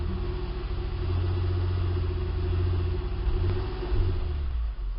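A 2004 Acura MDX V6 idles with cylinder 3 misfiring, a close, steady low engine rumble with a slightly uneven pulsing beat and a small stumble near the end, heard from inside the car.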